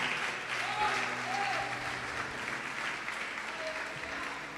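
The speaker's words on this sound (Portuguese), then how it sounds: "Você pode aplaudir o Senhor por isso?" Church congregation applauding during a sermon, sustained clapping of moderate loudness with a faint tonal sound and other noise mixed in.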